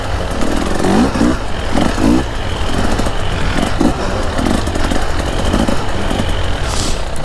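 A KTM 300 two-stroke dirt bike being ridden off-road, its engine loud and close with a rasping, uneven blat that surges and drops in rapid bursts of revving throughout.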